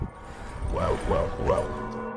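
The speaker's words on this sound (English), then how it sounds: "he hears barking behind him and the chase is on again." Three short, tonal barks from a dog ring out in quick succession over a low background hum.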